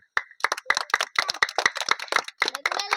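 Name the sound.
children and audience clapping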